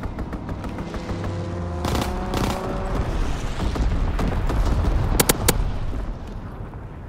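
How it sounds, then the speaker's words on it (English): Fighter plane strafing gunfire in Call of Duty: WWII: rapid bursts of automatic fire cracking over a rumbling, droning battle din, with a longer volley early on and a sharp, short burst near the end. "Fighter pilot inbound, strafing the target"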